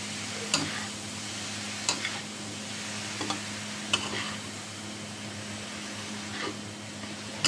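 Vegetables for lumpia are stirred in a pan, with scrapes and taps of the utensil every second or so over a steady background hum and a low sizzle.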